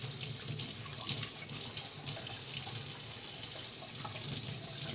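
Kitchen tap water runs into a sink to rinse a baked-on lasagna dish, a continuous splashing stream with small surges and clatters as the dish shifts under the flow.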